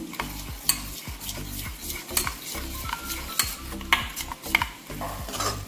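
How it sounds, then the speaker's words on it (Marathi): Yogurt is whisked with spices in a bowl, producing rapid rhythmic clinking and scraping strokes that repeat steadily and up close, with no talking. "सगळं असं छान फेटून घेऊया दही।"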